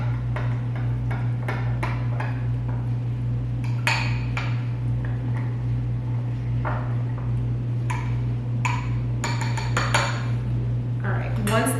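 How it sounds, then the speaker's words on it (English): Chia pudding mixture stirred in a bowl with a spoon, giving a steady run of sharp clinks and scrapes against the dish over a constant low hum, with no talking. "And then make sure to give that a good stir."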